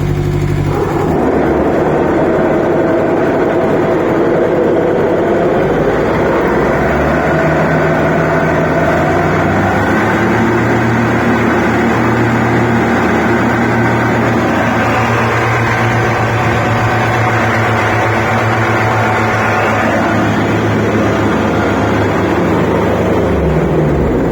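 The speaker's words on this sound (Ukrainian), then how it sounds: "Вмикається косаричок." An Iseki diesel garden tractor lawn mower engine runs steadily and loudly close by, a continuous low diesel drone with a slight change in pitch partway through, heard alone without talk.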